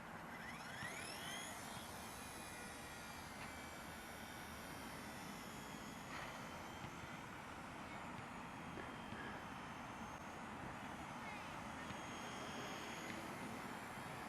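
Beginner RC helicopter flying outdoors over tall grass, its small rotor and motor whine held steady and fairly close throughout, with a broad rushing hiss and no talking.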